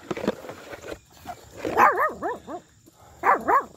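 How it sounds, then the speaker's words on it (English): A dog standing near its owner barks for a milk bone treat: a soft opening yip, then two bursts of several rising, whiny barks, close and clear with no talk. "Now you're going to stand there and bark at me after I give you a milk bone."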